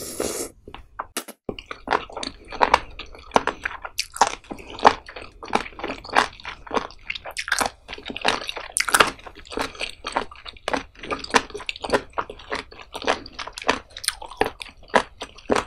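Raw spoon worm (gaebul) seafood is chewed close up, giving a rapid series of crisp, wet crunches and bites in steady rhythm, loud and near, with no talking.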